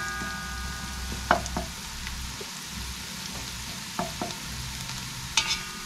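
Ginger toasting in hot oil in a pan, a soft steady sizzle broken by several sharp scrapes and clinks of a spoon stirring, close and fairly quiet.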